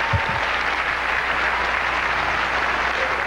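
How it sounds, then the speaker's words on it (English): A studio audience claps for country singer Aaron Tippin on a 1990 television talk show, a dense, sustained wash of many hands applauding at even loudness from start to finish, with a couple of brief low thumps near the start. "would you please applaud Aaron Tippin over here?"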